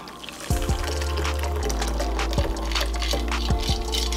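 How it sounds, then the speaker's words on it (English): An apple martini is poured from a shaker into a cocktail glass: a close, steady stream of liquid splashing and trickling, with a few soft knocks, and no voices. "Pour it in."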